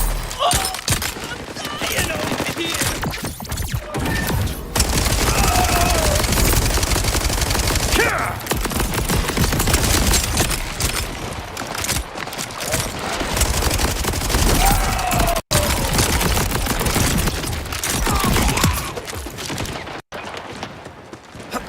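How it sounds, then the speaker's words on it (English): Rapid bursts of video game gunfire crackle almost continuously, with people talking over the dense, loud shooting throughout. "Why are you running towards the gunfire?"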